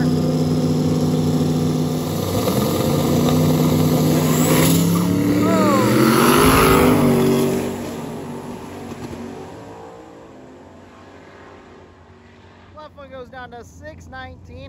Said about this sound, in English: We got a spicy pair of trucks here.